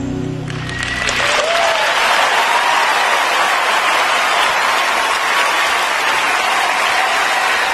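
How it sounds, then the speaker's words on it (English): Loud, sustained applause from the audience at the 2023 Oscars ceremony, rising quickly after a brief musical tail and holding steady as a dense wash of clapping. "Give yourself some applause."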